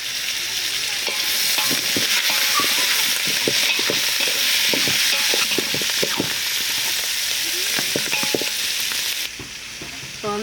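Curry leaves, tomato and onion fry loudly in oil for a Jalebi fish curry, a bright sustained sizzle layered with rhythmic spatula scrapes and knocks against the pan, easing off near the end.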